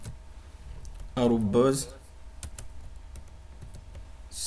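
Computer keyboard keys clack in a short scattered run as an SSH command is typed, with someone speaking briefly over the typing in the middle.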